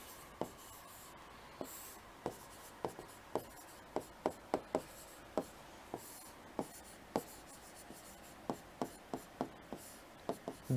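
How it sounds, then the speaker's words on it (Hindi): Pen or pencil writing notes during a geography lecture, a quiet scratching broken by a steady run of short, crisp taps and strokes roughly every half second, close and alone with no talk. "अपन सिर्फ लिख रहे हैं इसको"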